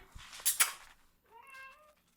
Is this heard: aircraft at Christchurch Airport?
no